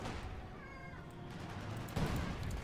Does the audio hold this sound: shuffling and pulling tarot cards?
no